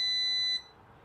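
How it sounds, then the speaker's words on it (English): A 3D printer sounds a single sharp, high electronic beep that holds for about half a second and cuts off abruptly, leaving faint room noise. "that's my 3D printer"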